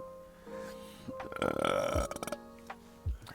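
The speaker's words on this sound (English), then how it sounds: "whenever I smoke, I burp a lot" A person lets out a long, loud burp that rumbles and gurgles for about a second, followed by a shorter, lower burp near the end, heard close up with no talking.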